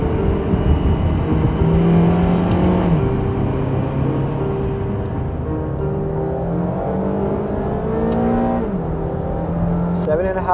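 A 2009 Acura TSX engine revving hard in first gear in manual mode, a steady loud drone rising in pitch toward seven and a half thousand RPM, heard from inside the car with a voice talking over it.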